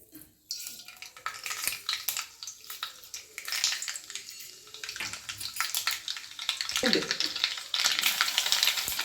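Mustard seeds and garlic crackle in hot oil for amla pickle, a bursting, uneven sizzle that swells and fades in waves, with occasional utensil knocks against the pan.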